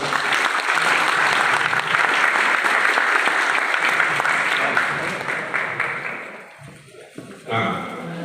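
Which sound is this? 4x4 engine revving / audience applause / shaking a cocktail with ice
audience applause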